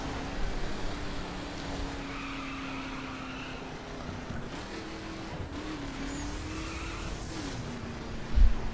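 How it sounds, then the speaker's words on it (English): A 1969 Chevrolet Camaro RS in The Crew racing game holds a steady, droning engine note through a fifth-gear wheel spin, with brief pitch dips and a faint tire hiss, and no talk. "Fifth gear wheel spin this time."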